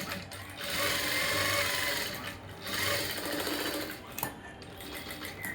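A sewing machine runs close up while stitching the lining of a blouse, a loud continuous whir broken by two short pauses before a final burst, with faint hints of talk.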